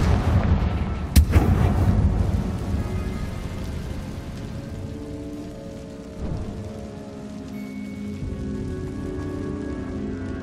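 Bombarda and Confringo spell blasts in the Hogwarts Legacy video game, a sharp explosive crack followed by a dense, sustained rumbling roar of debris and magic effects that slowly tapers off.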